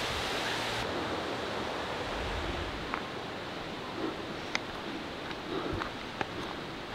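Helton Creek Falls, a waterfall in Georgia, gives a steady broadband rush of falling water that stays loud and constant throughout, with a few faint clicks and knocks over the roar and no talk.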